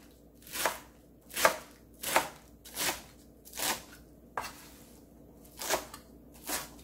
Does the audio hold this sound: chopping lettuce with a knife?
yes